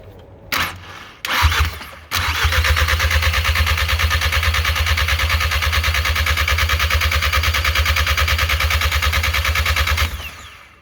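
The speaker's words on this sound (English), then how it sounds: "We cannot start it, yes, but we can crank it, right?" A VW CDL engine with no exhaust or downpipe fitted is cranked without starting: two short bursts, then a steady, loud, rapid starter churn for about eight seconds before it stops.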